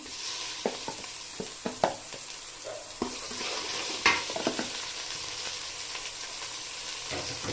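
Spices and ginger-garlic paste sautéing in a pan, with a steady close sizzle broken by scattered scraping stirs and a few sharper spoon clinks against the pan.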